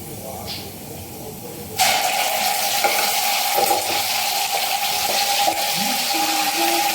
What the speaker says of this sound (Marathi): मसाला छान परतून घेतला तेलामध्ये